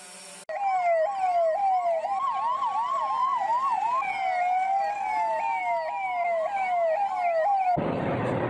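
Ambulance sirens sound at a dedication ceremony for ten new ambulances in Ujjain: loud, close wailing tones sweep up and down continuously for about seven seconds, overlapping one another, then cut off abruptly into a burst of noise.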